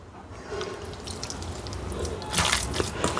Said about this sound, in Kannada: ನಾನು ಇನ್ನೊಂದು ಸ್ವಲ್ಪ ನೀರು ಹಾಕಿಬಿಡ್ತೀನಿ